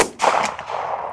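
A single 9mm pistol shot fired outdoors at a target 100 yards away: one sharp, loud crack followed by a broad, rumbling echo that decays over about a second.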